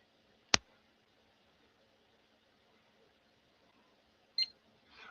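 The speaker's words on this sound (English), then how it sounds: "We got a beep." A newly built desktop computer gives a single short beep at startup, preceded by one sharp click early on, in an otherwise quiet room.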